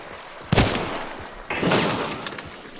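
Gunfire in the video game Hunt: Showdown, two loud close shots about a second apart, each ringing out with a rumbling tail, followed by a few faint clicks and no talking.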